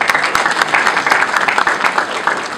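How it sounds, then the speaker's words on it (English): Applause from an audience at a prize-giving event honoring Zimbabwean women footballers, a dense continuous patter of many hands clapping close and steady throughout. "Another round of applause to that."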